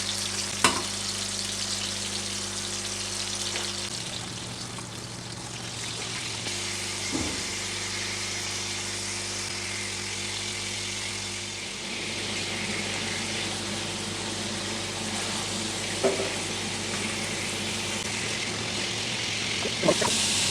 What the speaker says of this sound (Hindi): क्योंकि तवे पे सबसे अच्छे फ्राई होते हैं। अब आँच मैंने इसकी हल्की कर दी है,